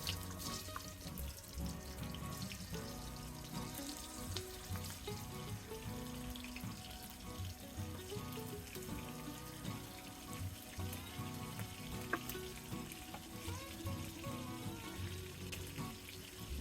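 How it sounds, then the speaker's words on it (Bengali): Tengra fish fry in hot oil in a pan, a steady wash of bubbling, sizzling crackle that runs unbroken and fairly soft, close by, with no talking. "এবার মাছগুলো ভেজে নেব।"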